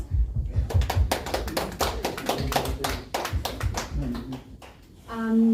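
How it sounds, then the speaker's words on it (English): A small audience at a Miss Global Samoa press conference claps, sharp individual hand claps in an uneven flurry that fades, followed by a brief voice and tone at the end. "can we please have another round of applause?"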